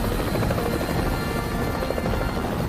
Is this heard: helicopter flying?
yes